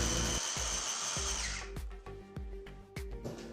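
An electric grinder chops tomatoes in a kitchen: a high whirring motor runs for about a second and a half, then stops, followed by a series of short, rhythmic pulsed bursts.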